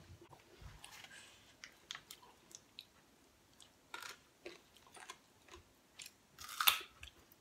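Someone eats spicy Thai papaya salad (som tam) up close, with soft wet chewing and crunchy bites in an irregular rhythm and a sharper, louder crunch near the end.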